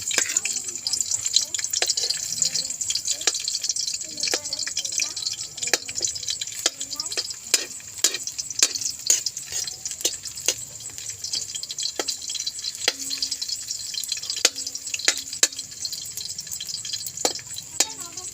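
Garlic sizzles in a pan with a steady hiss and scattered crisp pops and clinks from stirring, close and continuous, while someone talks over it.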